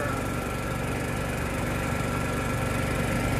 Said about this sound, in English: Riding around another free tractor.